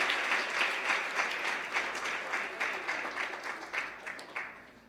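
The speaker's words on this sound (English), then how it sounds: "please give a round of applause" Students at a Junior Achievement banquet in Cayman give a round of applause, a soft, distant patter of many hands that gradually thins and fades out.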